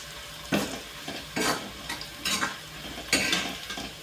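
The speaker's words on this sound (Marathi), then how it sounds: "वळायचा आपला कांदा." Onions frying in a pan are stirred with a utensil, giving a steady soft sizzle and a few scraping strokes of the spatula, close and clear with no talk.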